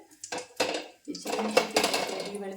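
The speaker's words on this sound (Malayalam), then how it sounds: "ഇനി ഇത് ചീനിച്ചട്ടി അങ്ങോട്ട് വെച്ചിട്ട്" A few metallic clanks and scrapes as a wok is set down and shifted on a stovetop, close and sharp, with brief gaps between.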